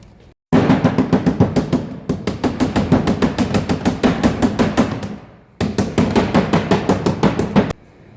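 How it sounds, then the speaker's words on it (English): Rapid, steady hammer blows on a canoe's thin metal hull, hammering out dents, loud and close, in long runs with a brief pause between them. "So I'm just gonna hammer out some of these dents."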